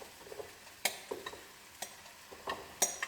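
Sweet potatoes sizzle on an All-Clad grill beside filet mignon, with a few sharp clicks and scrapes of a utensil breaking through a soft, steady frying hiss.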